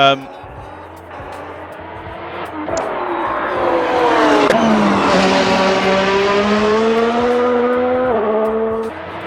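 A Ferrari SF23 Formula 1 car engine in Assetto Corsa revs and shifts through gears, its pitch climbing and dropping, loud and continuous with a brief tire squeal early on.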